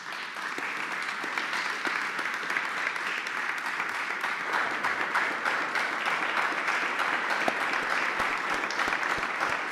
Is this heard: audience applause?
yes